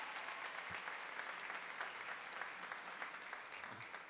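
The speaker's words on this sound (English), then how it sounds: "let's give her a nice round of applause." A middle school graduation audience gives sustained clapping for a staff member, dense and steady, with a faint voice or two beneath it.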